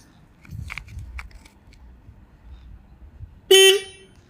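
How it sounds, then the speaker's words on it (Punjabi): A Royal Enfield Bullet motorcycle horn gives one short, loud toot near the end, after several seconds of quiet clicks and handling noises during home servicing. "ਹੁਣ ਆਪਾਂ ਹਾਰਨ ਚੱਲਦਾ ਦਿਖਾ ਰਿਹਾ"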